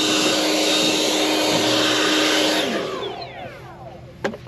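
Compressed air blasts dust and wildfire ash off an excavator during refueling; a loud, steady high-pitched hiss runs for about three seconds, then cuts off and tapers away, followed by a couple of faint clicks.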